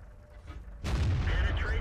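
A heavy tank gun fires in World of Tanks, a single loud booming shot landing suddenly partway through and rolling on as a sustained, full-bodied rumble of battle noise.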